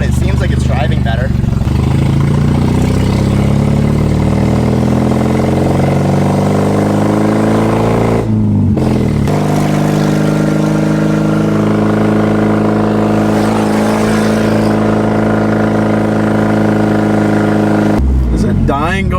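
A Nissan 240SX engine roars loudly and continuously while driving, a steady heavy drone with shifting pitch and a brief dip partway through, with people talking over it inside the car.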